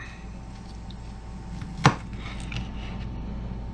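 A single sharp knife chop through peppers on a cutting board cracks out once, close and distinct, against faint kitchen room tone.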